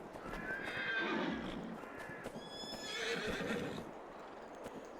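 Horses in Farming Simulator 22 whinny repeatedly over a steady bed of clip-clopping hooves, with several neighs rising and falling across a few seconds and no voices present.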